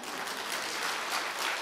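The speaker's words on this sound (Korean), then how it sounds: "박수 한번 쳐야 돼." A congregation at a church revival service breaks into sustained, even applause, many hands clapping together in a dense, steady wash from start to finish.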